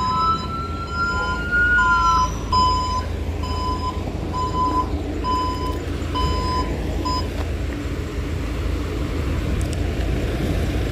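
An emergency siren from a police car, ambulance or fire truck wails and pulses over steady traffic rumble, its repeating electronic tones loud and fairly close before fading into general street noise.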